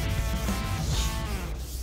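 Steady close-up rubbing and scraping of 320-grit sandpaper on the painted body of an '85 Chevy K10, cutting down orange peel, a continuous even abrasive sound with no talking.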